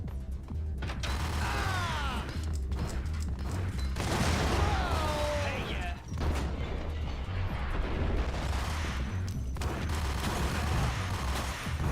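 Gunfire and explosions in the Max Payne shooter video game, dense overlapping shots and blasts rattling on nearly continuously at high volume, with occasional swooping effects.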